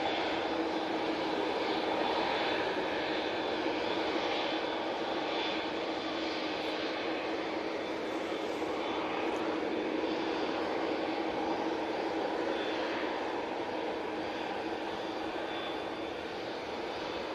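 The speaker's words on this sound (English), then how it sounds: "we do have the Aer Lingus just on short final now" An Aer Lingus airliner on short final approach at Manchester Airport in breezy conditions, its engines a steady, loud broadband roar that holds evenly throughout with no talk.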